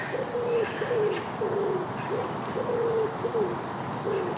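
Wood pigeons coo from trees in Hampshire woodland between housing estates, a steady repeating series of soft, low phrases with faint higher birdsong in the distance and no talking.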